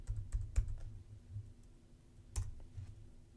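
A password is typed on a computer keyboard in a few quiet, close keystrokes, with a small cluster near the start and another couple of clicks later over a faint low hum.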